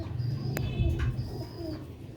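Betra high-flying pigeons from Sialkot coo in a steady low, throaty rumble close by, with a couple of brief sharp clicks and faint higher chirps above it.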